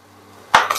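A large knife chops through a hard carrot onto a board, with two sharp, close thuds in under a second: a loud first strike and a smaller second one.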